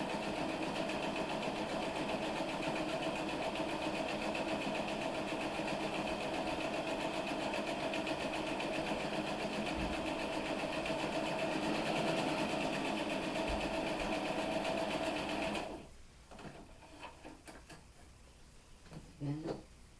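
A sewing machine stitches quilt block pieces for a pinwheel block in a steady, fast, even whir for about fifteen seconds, then stops, leaving a few faint handling sounds.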